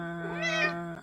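A pet cat named Salem lets out a clear, drawn-out meow close by, rising in pitch and then falling away, with no one talking over it.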